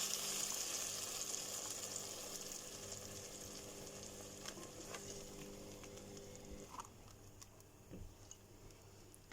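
Frozen tomatoes frying in a pan for mumbar, a soft steady sizzle that gradually fades, with a few light clinks and stirring sounds toward the end.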